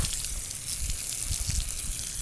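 A garden hose on its soaker setting runs steadily onto garden soil outdoors, giving a continuous close hiss and splatter of water.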